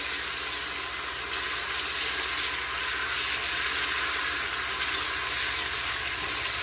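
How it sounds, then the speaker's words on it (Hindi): Ginger garlic paste frying in oil in a pot, a soft, even sizzle that holds steady throughout with no talking. "और 2 टीस्पून फुल भर के इसमें अदरक लहसुन का पेस्ट जाएगा। थोड़ा सा हम इसको फ्राई करेंगे।"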